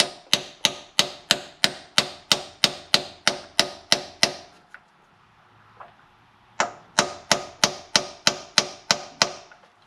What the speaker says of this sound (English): Alright, so we're going to hammer on it here.